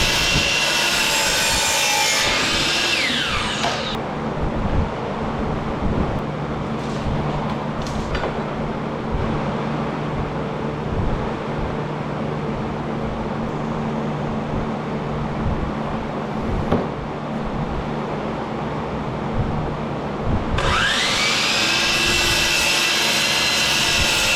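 A power saw cuts cedar boards to size for a van shower door, with loud high whines of the blade spinning up and down at the start and end framing a long stretch of steady cutting roar.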